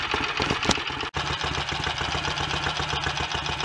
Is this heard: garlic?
no